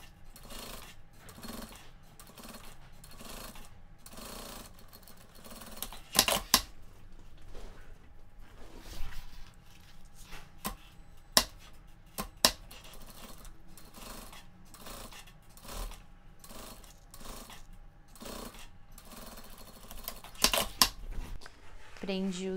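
A sewing machine stitches a zipper along the edge of a bag being made, running in short rhythmic bursts with quiet pauses between them and a few sharp clicks.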